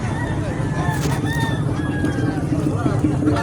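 Fighting roosters crow repeatedly at a busy livestock market in San Carlos, Pangasinan, with several overlapping cock-a-doodle-doo calls over a constant noisy crowd and engine rumble.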